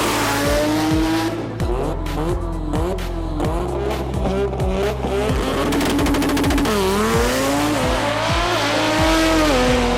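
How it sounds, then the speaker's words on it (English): A Mazda rotary-powered Ford Escort drag car runs hard down the strip, its loud, buzzing engine climbing through rapid gear changes with sharp upshift dips and a final rising howl, close and continuous with no talk. "there's plenty of Run What You Brung action on the track to watch, including an incredible Mazda rotary-powered Escort of Justin Ladmu all the way from Malta"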